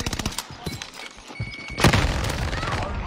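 A frag grenade going off in the Warzone battle-royale game: rapid gunfire bursts, then a sudden heavy boom that settles into a rumbling tail, loud and close.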